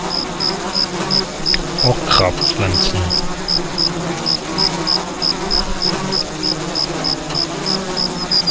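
Bees buzz continuously in the Biosys video game, a steady insect drone running under a rhythmic repeating tick, with someone briefly speaking over it.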